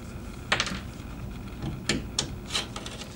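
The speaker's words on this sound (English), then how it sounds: "First you would take the punch down screwdriver to take off all the faceplate screws." A Klein punchdown screwdriver multi-tool backs out the screws of a wall jack faceplate, giving quiet close scraping and clicking turns in short separate bursts against a hushed background.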